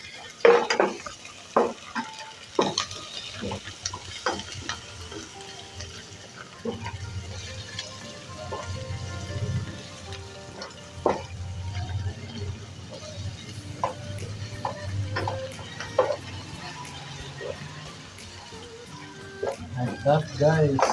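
Beef pilau with ginger and garlic frying and being stirred in a pot, a steady low sizzle under repeated scraping and clinking of a utensil against the pan, with occasional louder knocks.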